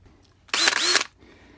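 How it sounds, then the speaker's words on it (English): A short, loud, high-pitched whir of a power drill spinning up and down as a stuck screw is drilled out of a gas water heater, lasting about half a second amid near silence. "I had to drill that one out"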